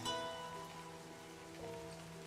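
Soft, steady rain patters on a surface in a visual novel video game, heard faintly and continuously under a sustained musical drone.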